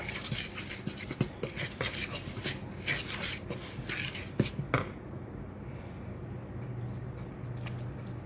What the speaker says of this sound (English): I'm going to stir a little bit of that in there. I'm going to use a fork to do this.